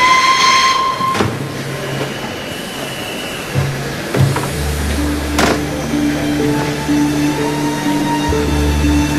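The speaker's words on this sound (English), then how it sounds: "Train is ready to depart." A steam train departing a station, with rumbling rolling stock, a brief whistle and the clank of cars starting to move, fairly loud and steady with no talk.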